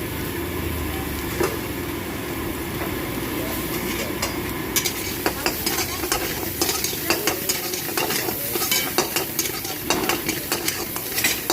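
Onions fry in a pan at a street stall for egg khimo, a constant close sizzle while a utensil scrapes and clatters with quick repeated stirring strokes that grow busier toward the end.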